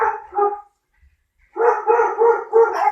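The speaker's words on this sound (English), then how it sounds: "Sorry, the dogs are going off." Several dogs barking indoors nearby, a couple of sharp barks followed by a short pause and then a louder run of overlapping, tonal barks.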